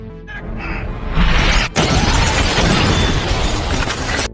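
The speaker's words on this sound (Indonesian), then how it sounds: "menyusup ke dalam ruang VIP, dengan cara menerobos pintu kaca" A glass door smashed through in an action film: a sudden loud, dense crash of shattering glass with a sharp cut and a long, sustained rush of breaking debris.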